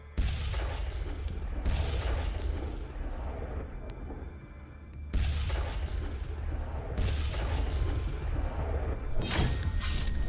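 News footage of a bomb explosion inside a building room, with several heavy booming blasts and rumbling bursts repeating, loud and close, with sharp crackling debris.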